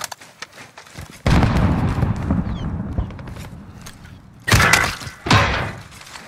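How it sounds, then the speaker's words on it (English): Grenade blasts in the video game Warzone: a sudden loud explosion with rumbling debris, then a second sharp burst and a smaller follow-up boom near the end. "Grenade out!"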